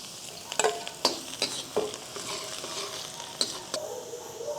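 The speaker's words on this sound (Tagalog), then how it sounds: "Tapos magto-toast lang tayo ng bawang." Garlic toasts in cooking oil in a pan for garlic rice, crackling with a soft, steady sizzle while a utensil stirs and taps the pan in a series of sharp clicks, close and fairly quiet.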